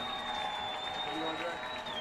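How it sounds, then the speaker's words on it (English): High school football crowd at a Nettleton versus Batesville game roars steadily in the stands, a broad continuous cheer for the defense with a whistle-like tone running through it. "Nettleton definitely doing their part to cheer the defense on."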